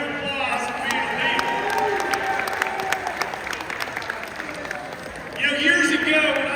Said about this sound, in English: So give yourself a round of applause for being a